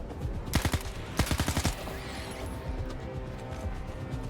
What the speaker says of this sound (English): I'm coming at all of them with a fucking machine gun now